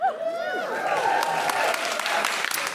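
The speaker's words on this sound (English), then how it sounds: "the applause is probably previous" Applause from a live comedy podcast audience, a broad sustained patter of many hands, with a voice speaking over the start before the clapping carries on fairly evenly.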